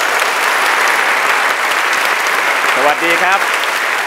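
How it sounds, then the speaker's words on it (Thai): Audience applause fills the hall at the final judging round of the True Innovation Awards, a steady dense clapping throughout, with a man's brief spoken greeting over it near the end. "ขอเสียงปรบมือครับ"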